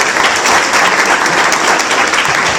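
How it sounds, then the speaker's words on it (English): Crowd applause at a sponsored business event, loud and close, steady, dense clapping for a few seconds with no talk over it. "We give him a round of applause."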